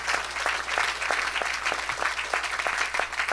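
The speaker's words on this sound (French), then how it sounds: "acclame pour la parole de Dieu" A church congregation at a Saturday service claps loudly and continuously, a dense patter of many hands in a reverberant hall with no voices standing out.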